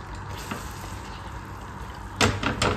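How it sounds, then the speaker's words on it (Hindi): Chicken masala fries uncovered in a pan with a steady, fairly close sizzle that swells near the end as a few brisk stirring scrapes come through. "अब इसे भून लेने देते हैं और ढकेंगे नहीं, खुले में ही इसे भूनेंगे।"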